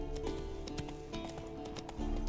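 Hooves of Roach, Geralt's horse in The Witcher 3: Wild Hunt, clip-clopping in a steady, quick gait, close and clear over a continuous background, with no talking.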